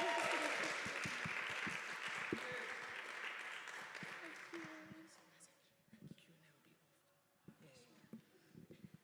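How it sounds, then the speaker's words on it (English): Audience applause at a creativity celebration event, a full round of clapping that tapers off after about five seconds, followed by quieter scattered sounds and some talking. "Guys, come on, another clap,"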